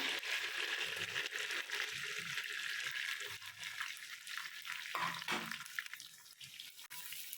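Onions, tomatoes and green chillies frying in a pan, a steady broadband sizzle running throughout at moderate level, with faint clinks and stirring scrapes near the end.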